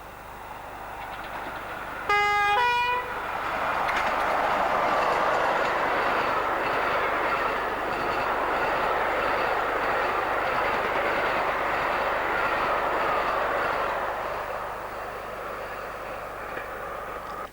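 A merrymaker railtour train on the Hertford Loop opens with a short multi-tone horn blast, then rolls past as a loud, steady rumble of wagons that swells and fades slowly, with no voices.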